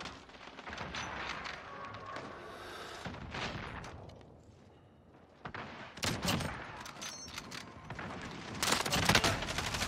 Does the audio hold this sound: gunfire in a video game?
yes